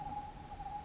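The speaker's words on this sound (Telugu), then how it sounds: "అంతేగా పక్షి." A bird calls in the open during a trek up to Venkatagiri fort, a steady clear hooting tone that sounds fairly close and repeats in two drawn-out stretches over a low outdoor hum.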